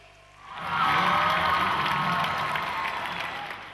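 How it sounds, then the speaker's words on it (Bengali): A theatre audience breaks into loud, sustained applause with some cheering to welcome performers for a comedy drama, swelling quickly after a brief lull and holding steady. "জোরে হাততালি দিয়ে এখন মঞ্চে ডাকুন মাহফুজ আর ওপিকে"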